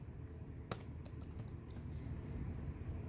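Keys tapped on a computer keyboard during a serial communication loopback test, a sharp single keystroke followed by a few quick lighter taps over a steady low hum.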